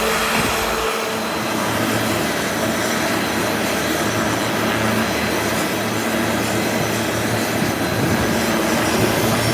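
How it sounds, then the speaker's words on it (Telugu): A loud, steady helicopter engine roar with a low rumbling drone runs without a break at a landing site in Jubilee Hills, Hyderabad, no voices over it. "ఆ హెలికాప్టర్ నాయిస్ సౌండే ఎక్కువ"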